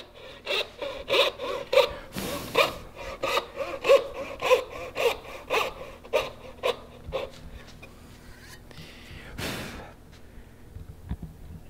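Hand saw cutting a dovetail kerf in wood, rhythmic back-and-forth rasping strokes close by, about a dozen evenly paced strokes that fade out, followed by a brief scrape.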